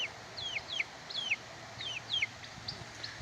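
A homestead chicken kept alongside turkeys gives a run of short, rising-and-falling clucks in quick repeated bursts, fairly close against a quiet outdoor background.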